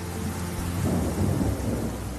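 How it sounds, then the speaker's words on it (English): Heavy November rain pours down steadily in a dense, hissing wash, with a low thunder rumble swelling underneath midway through. "The rain falls harder than usual."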